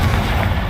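A Confringo fire-spell blast in Hogwarts Legacy lands as a short, dense, booming burst, loud and close, with a rumbling low body for under a second.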